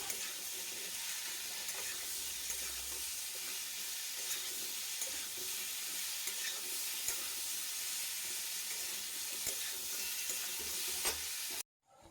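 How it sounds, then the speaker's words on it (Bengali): Papaya and potato pieces stirred in a pan with turmeric and salt, a steady sizzling fry with scraping stirs running throughout, close and even, cutting off abruptly near the end. "হলুদ আর লবণ দিয়ে এবার খুব ভালো করে নাড়াচাড়া দেব।"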